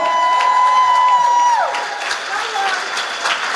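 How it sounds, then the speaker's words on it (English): A conference audience claps to welcome an artist to the stage, a moderate crowd applause rising under a fading sustained musical tone, with speech heard alongside. "A round of applause for Soul."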